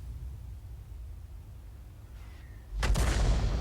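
A single SU-14-2 self-propelled artillery shot in a tank video game, a sudden loud boom with a long rumbling tail breaking in after nearly three seconds of steady low background noise.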